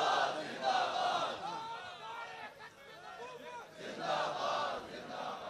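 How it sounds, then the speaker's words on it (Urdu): A crowd at a Tehreek-e-Labbaik press gathering shouting Labbaik slogans in rhythmic waves, a surge of massed voices, a brief lull of scattered shouting, then another loud swell of chanting. "لبیک کے نعرے آپ لگائیں"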